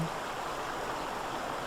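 A flowing mountain stream, a steady, even rush of water that holds at a soft level the whole time, with no voices.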